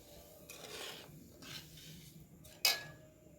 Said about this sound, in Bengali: তো এবার আমরা নাড়তে থাকবো আস্তে আস্তে।